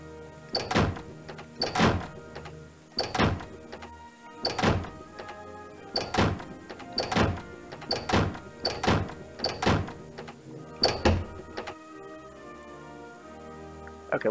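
Drawers in the video game Toonstruck opened in quick succession, a steady run of hollow thunks about one per second over quiet background music, close and distinct.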